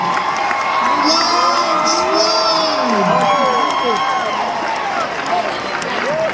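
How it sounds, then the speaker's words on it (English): A packed convention panel audience at a haunted-attraction anniversary event cheers loudly with whoops, shouts and some clapping, a sustained noisy roar from start to finish. "Come give her a round of applause"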